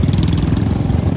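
A parked motorbike's engine runs close and loud at a steady idle, a continuous throbbing drone with no voices, during a group bike trip back from Haridwar.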